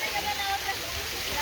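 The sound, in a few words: Rocky Glen waterfall flowing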